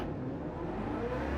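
A Ford Mustang GR3 race car in Gran Turismo 7 holds high revs at a standing start, a steady loud engine drone with no talk.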